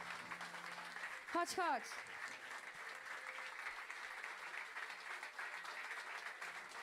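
Audience applause at a live concert fills the whole stretch as a steady, dense wash, with a brief whistle-like swoop near the start and a voice speaking over the clapping.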